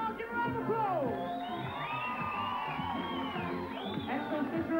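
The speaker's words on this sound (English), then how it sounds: "Come on, give a round of applause." A crowd at a competition whoops and cheers for a competitor, with shouts and voices rising over a busy background.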